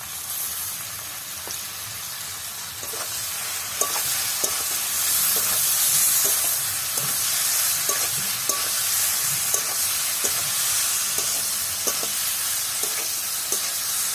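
Radish fries in hot oil with a constant bright sizzle, while a utensil scrapes and taps against the pan at irregular intervals throughout.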